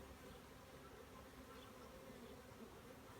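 Honey bees buzz inside a hive in a dense, continuous drone that stays close and even the whole way through, with no voices.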